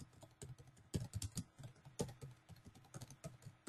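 Someone types on a computer keyboard, with quick irregular clacking keystrokes close by and a few louder key hits, no talking.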